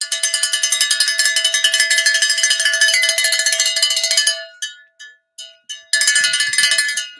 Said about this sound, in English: I ring the bell. So here's the bell warning.